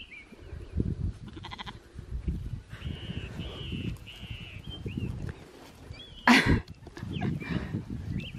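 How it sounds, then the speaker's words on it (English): Sheep in a small paddock on an Oklahoma ranch bleat several times, short wavering calls at moderate distance, with a sharp knock or bump near the end and rustling ambient noise throughout. "So now that the sheep are out in that little paddock"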